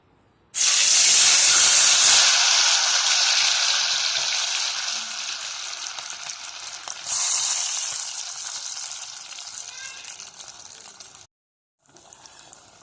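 Pieces of ivy gourd (kovakka) drop into hot oil in a pan for a fry. A loud, dense sizzle bursts in at once and slowly eases, swelling again partway through. It cuts out briefly near the end, then returns softer.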